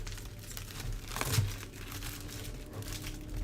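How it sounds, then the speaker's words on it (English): A big lump of aluminum foil and tape is crushed and crinkled by hand, a soft, close crackling that peaks in one brief squeeze. "Just a big lump of aluminum foil and tape."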